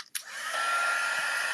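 A heat dryer blows steadily on wet paper craft, starting with a sharp click and rising into a loud, continuous whirring roar that holds close and constant without any talk.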